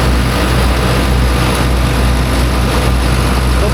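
A farm forage blower for corn silage runs at low RPM, making a loud, constant mechanical roar with a throbbing low-pitched hum, close and unbroken throughout, with no voices.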